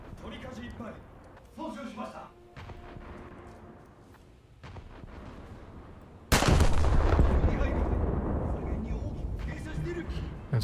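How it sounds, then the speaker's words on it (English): Battleship rear gun turrets firing in a naval video game, a sudden loud, sustained booming roar that cuts in after quieter game sounds and a person talking. "Let's get the rear guns on target."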